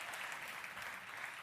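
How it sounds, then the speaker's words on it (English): Audience applause at a conference session, a steady wash of many hands clapping at moderate distance, continuous and fairly even throughout with no voices standing out. "So can we give them a big round of applause?"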